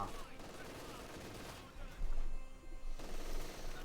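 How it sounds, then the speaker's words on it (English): Battlefield fire crackles through a Company of Heroes 2 match of Wehrmacht against British forces, with machine gun bursts and scattered shots swelling louder in the second half, layered with game ambience and a commentator talking over it. "Machine gun there pushing back some of the British troops"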